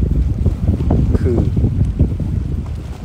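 Open water of the Han River rushes steadily under wind buffeting the microphone, a broad, continuous wash with no speech over it.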